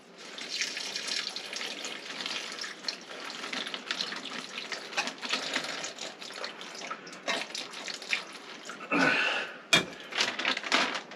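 Water is poured into a homemade charcoal filtration bag, a close, uneven splashing stream that surges and fades, with a sharp knock near the end and no speech.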